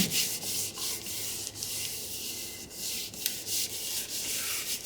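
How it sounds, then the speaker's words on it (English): A paper piece is rubbed and pressed down with glue inside a handmade flip-flop journal, making a steady close-up dry rubbing and scuffing sound with faint rhythmic strokes and no talk. "I'm going to just glue it on down"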